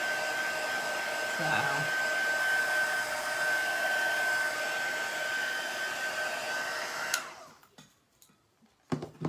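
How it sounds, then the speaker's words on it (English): A hair dryer blows steadily at close range, drying blue chalk paint on a wooden board, then clicks off around seven seconds, leaving quiet handling noises and a single brief spoken word. "Just trying to dry that board where I got that blue on there."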